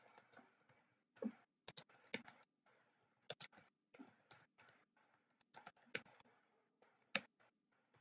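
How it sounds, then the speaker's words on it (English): Typing on a computer keyboard, with quiet irregular bursts of clicking keystrokes, some single taps and some quick runs, close by and with no talking. "I'm just typing out here"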